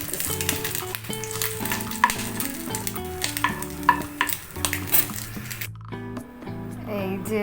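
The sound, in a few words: egg frying in spattering oil with dried chilies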